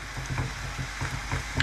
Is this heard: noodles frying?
yes